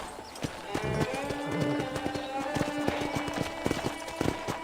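Horse hooves clip-clopping in Red Dead Redemption, a steady run of close, crisp hoof strikes over a low ambient bed, with a faint tonal drone partway through.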